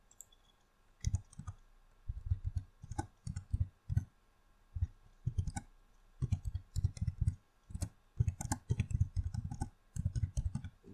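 A computer mouse clicks repeatedly at close range, quick soft taps in short clusters, some doubled, spread over several seconds with no talking.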